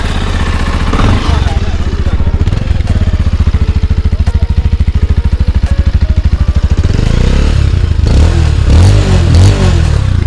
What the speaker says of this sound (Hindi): तो बाइक को स्टार्ट करते हैं।